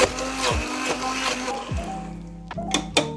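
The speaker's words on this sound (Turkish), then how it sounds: "Şimdi blenderla güzelce çekeceğim. Püre haline getireceğim." A blender purees cooked pumpkin with a whirring motor that surges and dips in short pulses, revving repeatedly over about three seconds without any speech.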